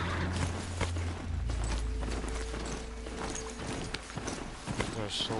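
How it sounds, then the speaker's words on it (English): Quick clip-clop hoofbeats of a galloping horse run through a busy, layered Horizon Zero Dawn game soundscape with a low rumble beneath. "Come on, horse."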